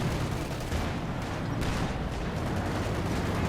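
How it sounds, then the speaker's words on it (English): A field gun shelling a StuG assault gun in the Company of Heroes 2 strategy game, set within a dense, continuous battle din of gunfire and explosions that holds loud and steady with no clear talking. "Field gun firing at the Stug."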